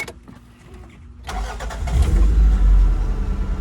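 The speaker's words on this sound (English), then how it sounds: "I'll start the car up for y'all." A 1993 Toyota MR2 engine is started after its ignition lock cylinder was replaced: a brief crank, then it catches and settles into a loud, close, steady idle with no voices.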